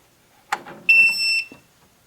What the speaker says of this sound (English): So you hear that beep?